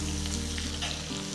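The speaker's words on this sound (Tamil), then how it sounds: "சின்ன வெங்காயம் போட்டுட்டு கொஞ்சம் லைட்டாக அப்படி வதக்கிக்கோங்க." Shallots and cumin sizzle and fry in a pan, a dense, continuous crackle that stays steady and close throughout.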